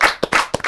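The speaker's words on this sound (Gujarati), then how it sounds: "ખૂબ બધી જોરદાર તાળી કુશલ માટે" A few sharp, close hand claps from an audience at a Gujarati film event, just two or three quick smacks in a brief burst.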